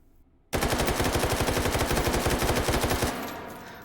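An AKS-74U carbine in 5.45x39mm with a short barrel and muzzle brake fires a rapid full-auto burst in the H3VR virtual reality game, loud sharp regular shots for about two and a half seconds, then a short fading tail.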